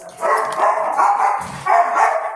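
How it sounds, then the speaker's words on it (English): A dog barks repeatedly, several sharp close barks in quick succession with brief pauses between. "Why are you barking? Stop!"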